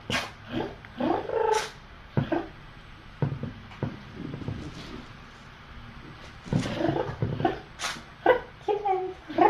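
A tiny kitten meows in short, thin, high cries, several scattered calls close by, mixed with a person's soft speech and handling noise.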